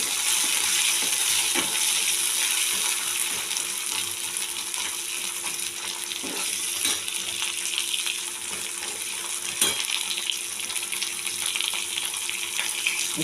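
Green peas frying in hot oil with spices like salt, turmeric, chilli powder, cumin powder and green chillies, a steady close sizzle with scattered pops and crackles, no talking.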